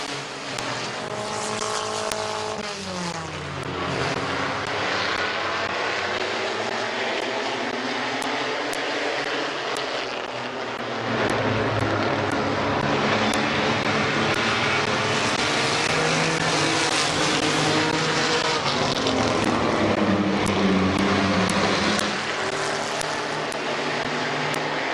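Race cars at Midvale Speedway roar off under green, a loud dense wash of engines with rising and falling pitch as cars pass close by, sustained without pause.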